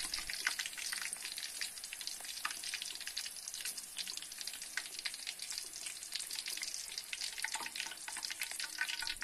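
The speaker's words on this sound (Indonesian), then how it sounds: "Ini untuk gorengan yang pertama, saya angkat dulu karena udah setengah kering." Snack pieces fry in hot oil, giving a steady crackling sizzle with dense popping bubbles that stays close and constant throughout, with no one speaking.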